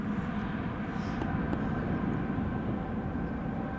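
An Emirates airliner at Newcastle International Airport gives off a faint, steady engine drone heard from a distance, with a few brief ticks.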